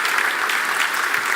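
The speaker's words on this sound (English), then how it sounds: "let's give an amazing applause to Chester Higgins" Dense, even clapping from an audience at the B&H OPTIC main stage, honoring photographer Chester Higgins; a brief, steady burst with no voices on top.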